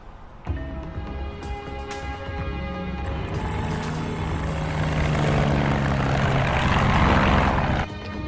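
A propeller airplane engine drones loudly and steadily, building slightly in intensity before easing near the end, with no voices over it.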